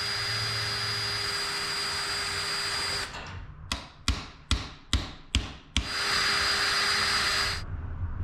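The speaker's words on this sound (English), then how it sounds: "I think it needs to be drilled out just a little bit more." A drill bores out a stubborn rivet on a Corvair van wing window, running steadily up close, then stopping and restarting in five short bursts before a final longer run.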